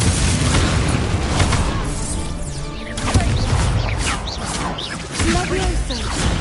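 Spell blasts from the Confringo fire spell in the Hogwarts Legacy video game, a run of loud booming bursts and crashes amid dense battle noise, with a voice speaking over it.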